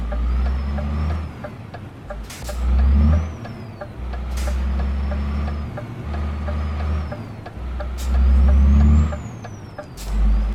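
Truck engine in Euro Truck Simulator 2 with a realistic sound mod, a steady diesel drone rising and falling with throttle, punctuated by several sharp hissing air brake releases.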